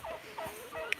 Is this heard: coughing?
no